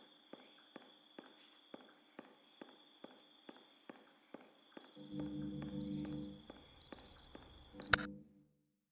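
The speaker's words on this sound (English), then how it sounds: "listen carefully for the sound of an alarm clock, which will automatically play if you are approaching a destabilizing dream weight" In the video game Superliminal, regular ticking clicks run steadily for several seconds, then a low tonal ringing swells with a few pulses and ends in a sharp burst before silence.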